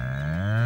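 A cow lets out one loud, drawn-out moo, close and rising slightly in pitch, with nothing else audible.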